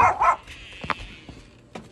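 A chatty dog gives a couple of sharp barks and yips near the start, then softer whimpering noises and faint thumps indoors.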